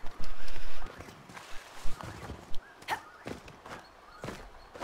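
Horse hooves clip-clop in the Dragon Age Inquisition video game, coming as irregular thumps and clatters, with a few sharper hits and a dense burst at the start.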